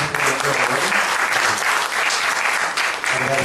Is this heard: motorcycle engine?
no